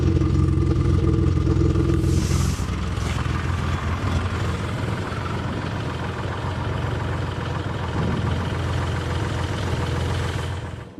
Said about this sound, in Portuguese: o motor que foi feito tinha uma falha, que é na marcha lenta, e podemos ver isso neste carro